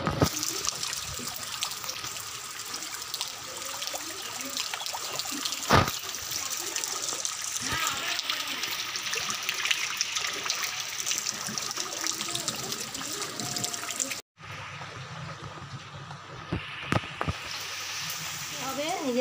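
Tap water runs steadily while yam and ginger are washed, a continuous hissing splash with occasional knocks and clatters, faint and close, with a brief break near the end.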